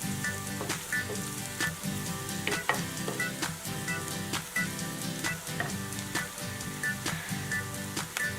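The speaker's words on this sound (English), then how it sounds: "You want to make sure that the onions are getting translucent." Onions fry toward translucency in a pan for South Indian vegetable kurma: a dense, continuous sizzle broken by rhythmic scraping knocks of a spoon stirring against the pan, roughly twice a second, close and loud with no talking.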